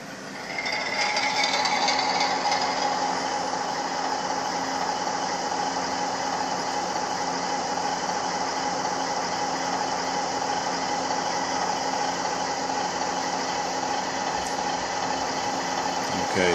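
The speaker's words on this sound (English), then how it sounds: "this is the default sound that comes with the decoder. It's a universal engine sound" Default universal diesel locomotive engine sound from an ESU LokSound decoder fitted in an Athearn Genesis SD70ACe model train, a steady droning electronic rumble that holds constant and close throughout, with no talking.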